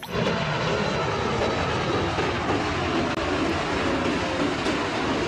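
Airplane engine noise in what seems to be toy play, a steady loud broadband roar holding for about five seconds with no speech over it.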